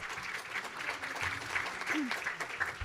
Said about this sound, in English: Please give her a big round of applause again.